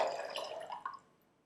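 Water poured into a container for cucumber pickling brine, a bright splashing trickle that tapers off with a few final drips after about a second, close and alone with no talk.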